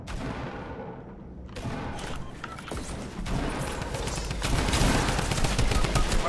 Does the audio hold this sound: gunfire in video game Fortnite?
yes